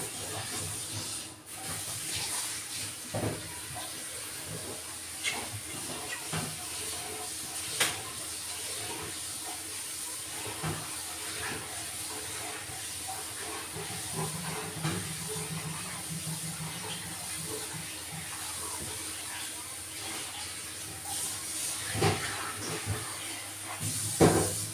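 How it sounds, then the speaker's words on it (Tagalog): Continuous sizzling hiss of chicken frying in hot oil, steady throughout with occasional crackles and pops nearby. "prito tayo ng manok"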